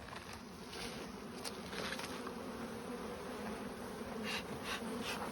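Honeybees buzz steadily around an open beehive colony, a dense, continuous drone close by, with faint rustling and no voices.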